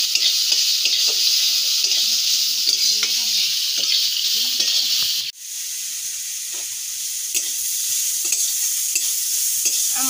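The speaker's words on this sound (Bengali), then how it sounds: "রসুন আর পেঁয়াজ আর রসুনটা খালি কড়ায় ভেজে নেব" Garlic and onion fry in a dry kadai for a fish curry, making a bright, steady hiss up close. Soft scraping stirs tick through it, with a sudden brief dip midway before the sizzle resumes, and nobody talks.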